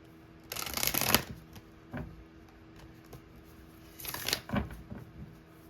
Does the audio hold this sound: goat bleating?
no